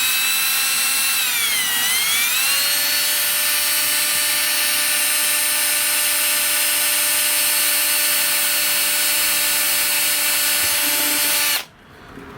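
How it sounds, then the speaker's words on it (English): A small power drill slowly bores a pilot hole in a Derjet F-35 model jet during a fuel tank fitting, its motor whine steady and close after a brief pitch dip, then cutting off abruptly near the end. "Just get that pilot hole drilled, and I go pretty slow because I don't want to crack anything."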